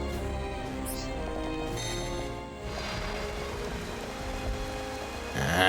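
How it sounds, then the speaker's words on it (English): Rain falls in the Xenoblade Chronicles: Definitive Edition video game, a steady soft patter under quiet ambient music, gently swelling near the end. "It's raining."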